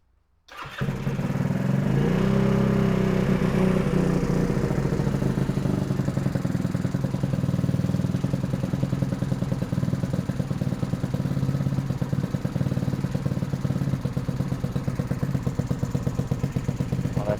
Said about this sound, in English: I'm going to go ahead and pop the choke. It's going to make that idle pretty high up.